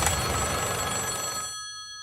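A telephone bell rings loudly and continuously for about a second and a half, then its ringing tone trails off into a fading echo, with no voices present.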